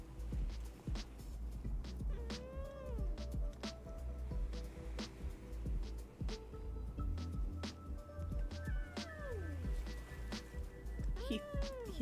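A talkative cat meows several times at irregular intervals, some calls long and bending in pitch, close to the microphone over low background noise and faint knocks.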